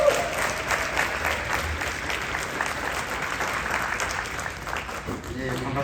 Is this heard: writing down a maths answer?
no